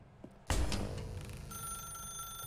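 Telephone ringing in The Stanley Parable: Ultra Deluxe, a sudden loud ring bursting in after a short quiet moment and continuing as a sustained, bright ringing tone.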